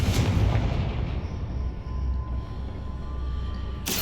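A Confringo blasting spell bursts in Hogwarts Legacy, a loud booming explosion up front that rolls into a long, dense rumbling decay across the whole clip.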